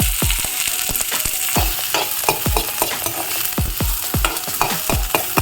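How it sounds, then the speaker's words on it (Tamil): Finely chopped onion sizzles steadily in hot oil tempering for palak curry while a spoon scrapes and stirs the pan in regular strokes, close and loud. "இந்த தாளிப்பு நல்லா செவந்தெடுத்து பொடியாக கட் பண்ண வெங்காயத்தை இதில் போடலாம்"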